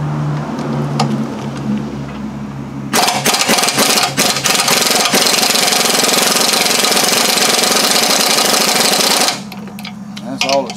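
An impact wrench hammering on a bolt of a leaky Kuhn GMD 500 disc mower spindle, a loud, continuous rattling burst of several seconds that cuts in after a quieter background hum and stops abruptly.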